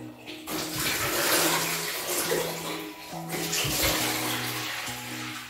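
Tap water runs steadily into a kitchen sink while a coffee flask is rinsed, a continuous close splashing wash with no talk.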